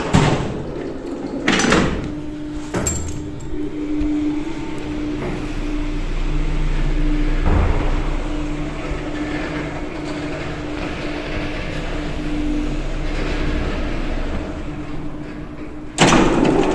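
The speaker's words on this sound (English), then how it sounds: "these lifts still have their original door mechanism and unlatcher" Original-mechanism shopping centre lift doors slide shut and later open, with clunks at the start and end and a steady mechanical hum and rumble of the car in between.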